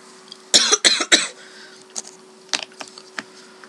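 Three harsh coughs come in quick succession up close, followed by a few softer throat sounds and small rustles.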